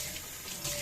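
Tap water runs steadily into a sink while an oak worktop is being rinsed, a soft continuous splashing flow that grows slightly louder near the end of the short stretch.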